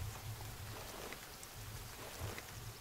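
Steady rain in the survival game The Forest, a constant soft hiss of falling drops with a low rumbling undertone throughout, no voices.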